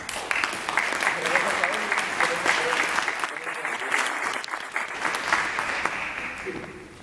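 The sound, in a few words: applause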